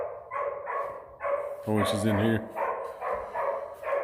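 Dogs bark in a kennel building, a brief burst of several loud, close barks in the middle with someone talking before and after.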